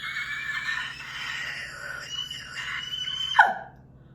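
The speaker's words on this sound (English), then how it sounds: "let's just do a little scream together" A single voice lets out a sustained, strained scream that wavers in pitch and ends in a sharp squealing break before cutting off.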